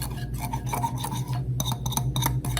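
Pumpkin spice pancake batter is lightly mixed by hand in a bowl, giving a steady soft scraping and rubbing with short rasping strokes close by, with no talking.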